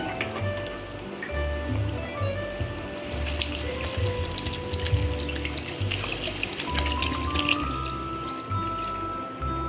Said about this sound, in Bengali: আর একটু জল লাগবে, আর একটু জল দিয়ে দেব।